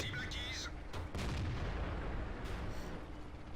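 In the World of Tanks video game, a tank gun fires one heavy boom, followed by a rumbling tail. It comes over quiet background game noise, with a faint voice underneath.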